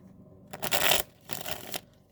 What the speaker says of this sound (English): These cards shuffle so nice.